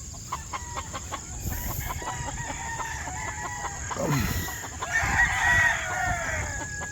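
Chickens cluck steadily on a farm with chicks nearby, while a rooster crows loudly partway through, all close and continuous with no talking.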